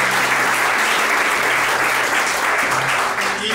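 Applause rises for the groom's uncle at a wedding, a loud, dense and steady clapping from a close crowd that holds throughout.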